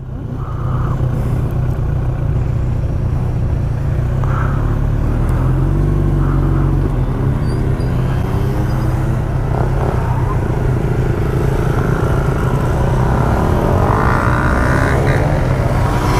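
A Yamaha R1 motorcycle engine drones loudly and steadily, with a deep rumble and little change in pitch, while riding past a group on the road.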